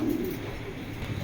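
Racing pigeons coo softly and continuously in a short stretch, with low throaty murmurs over a faint background hum.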